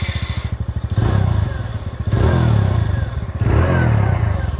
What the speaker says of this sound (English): this is a 110cc commuter and it sounds so bassy. The exhaust note is good.